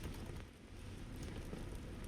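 Steady rain in the video game RimWorld, a dense, even hiss of falling water that runs unbroken at constant loudness, with no talking over it.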